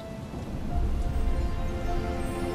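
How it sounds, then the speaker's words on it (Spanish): Rain falling in the Shadow Warrior video game, a steady hiss with low rumbling swells like distant thunder, continuous and fairly full, with faint tonal game music underneath. "Ah, está lloviendo cuando ella llora"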